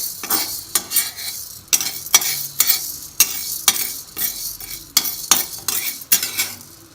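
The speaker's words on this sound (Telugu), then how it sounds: "కొంచెం మాండి వేడెక్కిన తర్వాత మినపప్పు వేసుకొని కొంచెం దోరగా వేయించుకుందాము" Urad dal dry roasting in a pan is stirred with a metal spoon, giving repeated scraping and clinking strokes in an irregular rhythm with quiet gaps between them.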